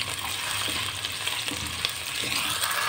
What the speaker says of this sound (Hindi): मैंने थोड़ा घी डाला है, आप इसको भी फ्राई भी कर सकते हैं